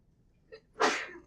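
One sharp human sneeze during a lecture, a short in-breath followed by a loud explosive burst, close and alone.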